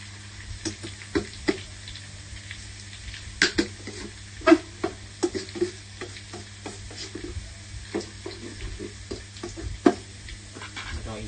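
Stirring and scraping in an electric frying pan, irregular utensil clacks and scrapes over a steady low hum, with a faint sizzle underneath and no talking.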